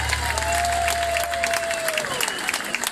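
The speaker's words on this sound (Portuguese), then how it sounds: "uma salva de palmas aí" Crowd applause with a little cheering at an outdoor São Pedro festival concert in Câmara de Lobos, a loud, continuous wash of clapping with a faint held tone running through it.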